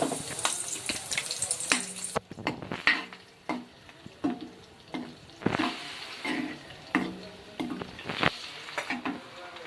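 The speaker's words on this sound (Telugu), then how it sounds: "ఇప్పుడు ఇందులోకి పచ్చిమిరపకాయలు అయితే వేసేసుకుందాం. బాగా ఫ్రై చేసుకోవాలి వీటిని." Green chilies frying in hot oil with peanuts and chana dal for pulihora, a steady close sizzle broken by repeated scraping stirs of a spatula in the pan.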